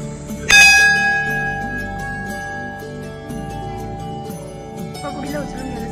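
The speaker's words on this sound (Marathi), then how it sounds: "घंटी वाजवला" A temple bell at a village deity shrine in Ratnagiri rings out with one loud, close strike, and its long metallic tone decays slowly over several seconds while soft voices murmur underneath.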